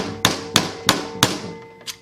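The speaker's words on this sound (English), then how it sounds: "you will probably need to do a little bit of hammering to get this thing, get these little" Four sharp metallic hammer blows ring out at an even pace, followed by a fainter fifth tap, as small governor arms are bent on a Predator 79cc engine, close up with no talking.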